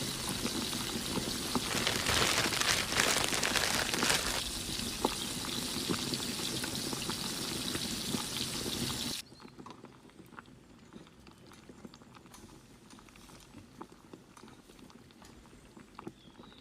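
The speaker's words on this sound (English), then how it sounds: "Continue cooking over low heat until sauce thickens" Chicken wing sauce simmering over low heat, a dense, steady bubbling hiss that is loud at first and drops to a quieter, softer bubbling partway through.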